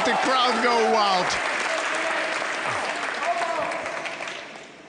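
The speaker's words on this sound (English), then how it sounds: "Look at the crowd go wild" Crowd at the 2017 World Pool Masters final applauding loudly and steadily, fading toward the end, while a commentator talks over it.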